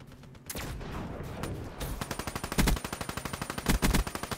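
Rapid SMG bursts from the Weevil in Call of Duty Black Ops 3 Gauntlet multiplayer ring out as a steady stream of close, loud shots with a few heavier volleys, after some quieter game noise.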